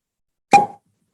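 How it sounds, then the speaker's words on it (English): Single sharp pop of a cork pulled from a bourbon bottle, close and loud, with a brief resonant ring that fades quickly into silence. "So let's do a cork pop."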